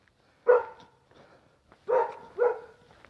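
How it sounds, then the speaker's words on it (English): A dog barks three times at close range, one short bark followed about a second and a half later by two more in quick succession, with quiet outdoor background between them. "Here's one of the barky dogs."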